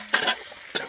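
Soybean chunks frying with onions in a pan, heard as two short scraping stirs with crackling sizzle, close and brief.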